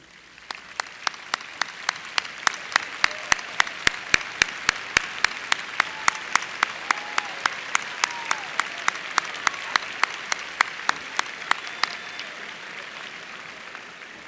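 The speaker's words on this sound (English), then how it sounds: "asking the parents, spouses, and immediate family members of the summer and fall classes of 2017 to stand and accept our applause." Large audience at a University of Louisiana Monroe fall commencement applauds graduates' families, a sustained roomy wash of clapping with one loud, regular nearby clapper standing out, tapering off near the end.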